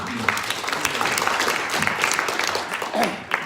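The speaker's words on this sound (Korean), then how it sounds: "우리 저 김성찬 의원님께 박수 한번 보내주시죠" Listeners at a panel discussion applaud a member of parliament, a lively round of many hands clapping with crisp individual claps standing out, steady throughout.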